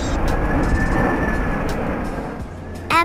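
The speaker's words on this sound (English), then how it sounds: "Airplane tanker, an airplane designed for carrying fuel or fire retardant materials to support firefighting efforts from the air." A firefighting air tanker plane produces a loud, continuous engine roar with heavy low rumble and a steady whine. The sound stays close and even for about three seconds, ending in a brief louder swell.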